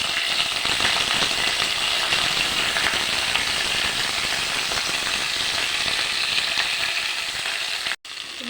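Bottle gourd leaves frying in mustard oil in a wok, a loud, continuous crackling sizzle close by that holds steady and then cuts off abruptly near the end.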